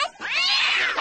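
A cat lets out one long, loud, drawn-out meow that rises and bends in pitch, close to the listener and heard alone.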